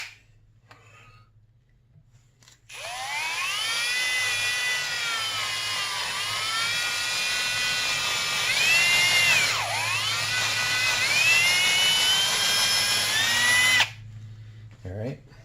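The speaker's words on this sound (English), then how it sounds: "So I'm going to go ahead and drill this out real quick." A power drill boring out a grease zerk on a 2002 Arctic Cat ZR 800 snowmobile, a close whining grind that wavers in pitch as the bit bites, running about eleven seconds before stopping abruptly.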